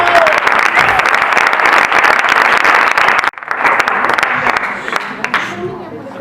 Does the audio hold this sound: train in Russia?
no